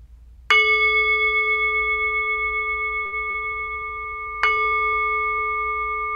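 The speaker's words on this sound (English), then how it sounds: "So I will ring the bell three times and we will begin." A meditation bell rings twice, each a clear struck tone with a long, slowly fading sustain, and faint tapping can be heard between the strikes.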